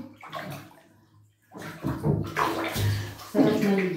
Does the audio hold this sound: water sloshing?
yes